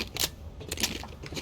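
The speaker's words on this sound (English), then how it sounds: "I do need to reload." A gun being reloaded in the survival video game Rust during a cargo ship raid, a short run of sharp metallic clicks and clacks from the magazine and action, close and fairly quiet, with no talking over it.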